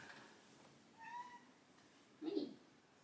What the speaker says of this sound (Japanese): にゃーって泣いてるよ。